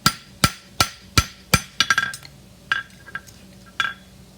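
A hammer strikes a horseshoe toe clip on an anvil in a farrier's work, first four evenly spaced loud ringing blows, then a quicker cluster of lighter taps and a few scattered clinks, close by.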